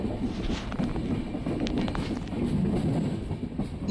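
Passenger train rolling into Mantralaya Road railway station, a steady loud rumble of wheels and carriages with faint rail clatter, no voices.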